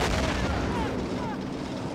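Artillery fire rumbling across a Men of War battlefield, a heavy low boom rolling out and fading over about two seconds, with voices faintly underneath.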